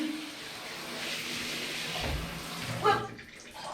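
Hotel shower in Lisbon running at normal pressure, a steady hiss of spraying water with a brief splashing shift near the end.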